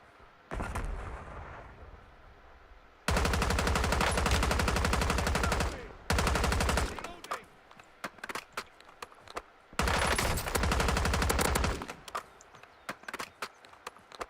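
Heavy automatic gunfire from the video game Warzone comes in long, loud sustained bursts separated by brief pauses and scattered single shots, dense and close with no talking.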